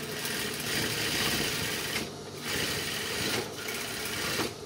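A sewing machine stitches a side pocket onto a garment in steady, fast mechanical runs, with two brief pauses between bursts, close and fairly loud, no talking.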